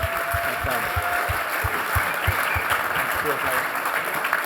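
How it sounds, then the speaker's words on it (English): An audience applauds at a live talk event about the Paris-Roubaix cycling race, a steady wash of clapping heard under a man's speech. "Give yourselves a round of applause."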